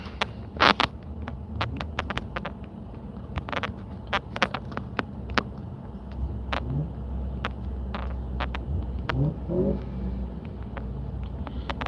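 A car with a VTEC engine revs nearby in short bursts, a low rumbling engine note rising and falling beneath sharp clicks and knocks close to the microphone, with no talking.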